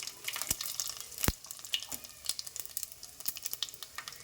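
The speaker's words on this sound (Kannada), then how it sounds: "ಚಟ್ಪಟ್ ಅಂತ ಇದೆಯಲ್ಲ, ಸ್ವಲ್ಪ ಜೀರಿಗೆ ಹಾಕ್ತಾ ಇದ್ದೀನಿ" Cumin seeds, chana dal and urad dal crackle and pop in hot oil while tempering for Andhra-style pappu charu, with sharp, irregular snaps over a steady close sizzle.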